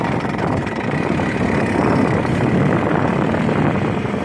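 A Gamefisher 15hp outboard boat motor runs steadily at low throttle, a loud, continuous close-up engine drone with no pauses.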